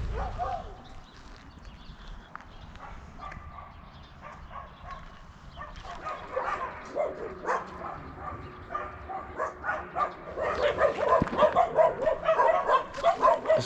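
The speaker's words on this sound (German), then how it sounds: "dass da deutlich mehr Hunde sind als in Concepción" Dogs barking on a rural street in the Chilean countryside, scattered yaps and barks at middle distance that grow denser and louder toward the end, with faint outdoor background noise.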